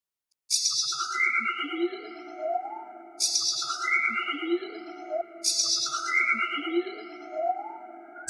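A Serum 2 synth patch processed after a reverb plays rising, gliding chorused tones that repeat in three bright, even cycles, each opening with a sharp, noisy burst. The sound is alone, with no voices.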